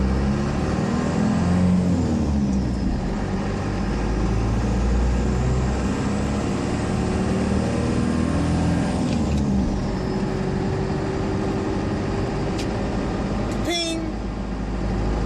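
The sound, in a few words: 4BT Cummins F150 driving, rocks flying out of tires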